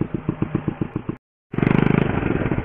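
A borrowed motorcycle on Carnaza Island runs close by with a rhythmic engine putter. After a brief silent gap it returns louder, revving into a fast, steady thrum.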